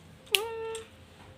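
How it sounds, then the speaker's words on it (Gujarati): A single clear cat meow, close and fairly quiet, rising sharply and then holding for about half a second against a faint background. "મ્યાઉ કરતા"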